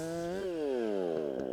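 Husqvarna 440 chainsaw cutting hard black walnut firewood, the engine droning steadily at high revs and dipping in pitch as the chain bogs into the wood, close and continuous.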